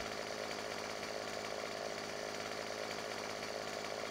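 A harvester saw in the video game Farming Simulator 17 cuts through logs with a continuous, even, buzzing motor whine, faint and steady throughout without pauses or voices.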